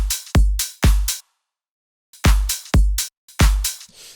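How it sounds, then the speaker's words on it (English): Layered FL Studio claps with a pre-shift hit landing just ahead of each clap, heard as two short bursts of three to four snappy, bright strikes separated by a second of silence, with no voice. "So yeah, those are the claps."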